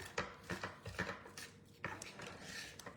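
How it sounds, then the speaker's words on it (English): Paint and stenciling paste are stirred together in a container, making quick scraping, tapping strokes that come in short bursts with small pauses and are fairly faint. "I'm just mixing paint and paste together"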